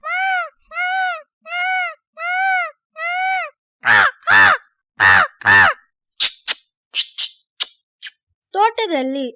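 A schoolchild mimics birds: five steady caw-like calls, then a run of sharp clipped chirps and squeaks, ending in a higher wavering cry, all close up.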